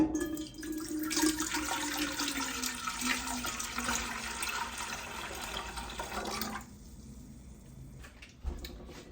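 Forsythia flower tea poured into an empty cooking pot for jelly, a steady liquid rush and splash lasting several seconds before cutting off, close and fairly loud with no talking.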